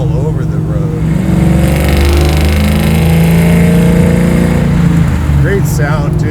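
Supercharged LSA V8 in a 700-horsepower Chevy Nova, a loud, deep, rumbling engine held at a steady, lumpy idle-to-rev throughout, close by, with people talking briefly at the start and end.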